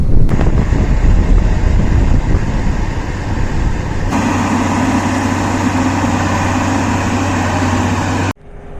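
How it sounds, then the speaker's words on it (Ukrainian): Strong wind buffets the microphone in a steady roar on a farm field, with a low combine harvester engine rumble underneath that shifts halfway through before cutting off abruptly. "Який сильний вітер дує."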